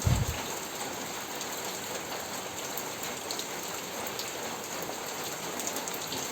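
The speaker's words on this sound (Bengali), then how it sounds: "একটু পরপরই কিন্তু বৃষ্টি নামছে" Steady rain falls outdoors around an old village pond, a dense even patter of drops on surfaces that carries on throughout, with a brief bump at the very start and no voices.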